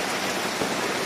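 Steady rain pours down on an outdoor Ramlila fair in Kanpur, where a Ravana effigy stands soaked; a dense, even hiss of falling water fills the air without pause.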